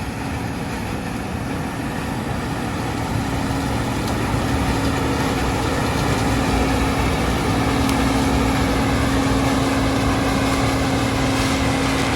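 A tractor engine runs steadily throughout a grain harvest, a continuous low droning hum with a sustained tonal whine, loud and close, with no talk over it.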